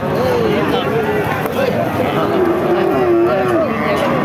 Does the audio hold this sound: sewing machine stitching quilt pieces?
no